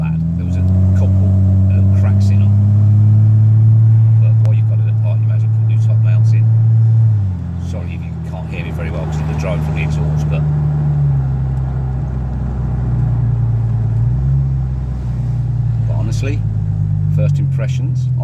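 A Porsche Boxster 986 with freshly upgraded suspension drives along a road, its engine droning steadily from inside the cabin and shifting pitch as the car changes speed, with occasional knocks and rattles.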